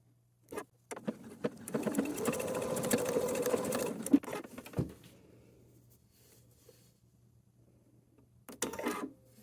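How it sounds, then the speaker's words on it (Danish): A domestic sewing machine stitches a fabric pouch for sanitary pads with a 1 cm seam: a short whirring burst, then a steady run of about four seconds, a pause over a low hum, and another brief burst at the end. "Jeg starter med at sy her og her, og det gør jeg med 1 cm sømmerum."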